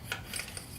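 A spark plug threaded by hand into the cylinder head of a Nissan Rogue 2.5L during a tune-up, producing a brief, faint metallic rubbing and scraping rasp with a few soft ticks, close and quiet.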